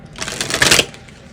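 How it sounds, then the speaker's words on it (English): Tarot cards being shuffled make a quick burst of crisp riffling and flapping that builds and then fades over about a second, close and clear with no talking. "I'm gonna do one more shuffle so I can make sure I get the best shuffle."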